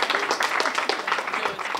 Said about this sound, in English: Let's have a round of applause for the professor